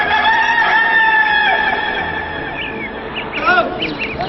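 A voice imitates a rooster crowing, a loud drawn-out cock-a-doodle-doo call delivered close up, with a brief rising squawk near the end.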